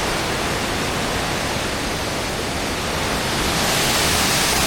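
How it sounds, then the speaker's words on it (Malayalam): A waterfall in Karangahake Gorge roars as a dense, unbroken wash of water noise, loud and close, with no voices over it. "നമ്മൾ വാട്ടർഫാളിൻ്റെ അടുത്തെത്തിയിട്ടുണ്ട്"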